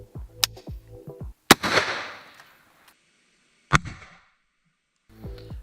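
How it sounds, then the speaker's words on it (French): A gun firing buckshot shells outdoors, three sharp loud shots spaced apart, each with a decaying rumble and echo, between bursts of nearby voices. "On teste la chevrotine."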